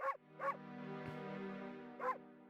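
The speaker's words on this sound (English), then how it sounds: "The bark of doom." Cartoonish dog barks from the video game Okami HD: three short yipping barks spaced evenly over a sustained droning musical tone, clear and up front with no talk.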